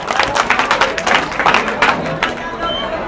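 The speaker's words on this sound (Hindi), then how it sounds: "जोरदार तालियां बजाइए" An audience claps to welcome guests at a stage event, a dense run of quick hand claps that stays fairly loud and then thins toward the end, with a voice speaking over part of it.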